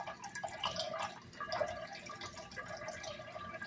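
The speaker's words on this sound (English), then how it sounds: "just add a little water," Water is added to a pan on the stovetop for reheating a vegan dish, heard as soft, faint dripping and trickling throughout.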